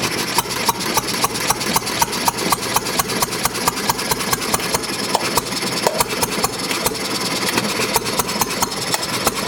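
Small see-through engine idling steadily, with a regular rapid knocking rhythm of sharp exhaust pops repeating evenly throughout, close and fairly loud.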